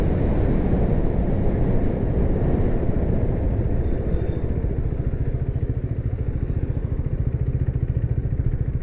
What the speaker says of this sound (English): I love the way the bike sounds